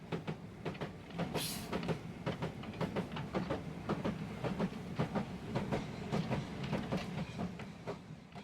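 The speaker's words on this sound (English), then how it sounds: "Michael Harris didn't just board a train" A train rolls along the rails with a steady clickety-clack, evenly spaced wheel clicks repeating over a low rumble, fairly close and continuous, with no voices.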